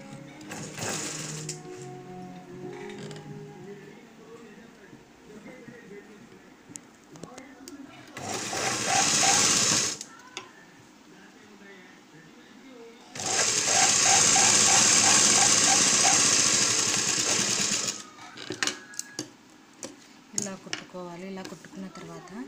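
A sewing machine stitches a blouse piece to its lining in two clear mechanical runs, a short burst and then a longer steady whir, with someone talking in Telugu before, between and after them.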